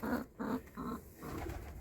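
Short-beaked pigeons cooing softly in short repeated bursts, close by inside a pigeon loft.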